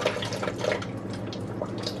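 Basmati rice being rinsed by hand in a bowl of water to wash off the starch, with soft splashing, swishing and dripping close by and no speech.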